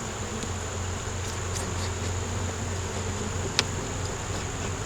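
Honey bees droning around an opened hive, a steady close buzzing hum with one brief sharp tap partway through.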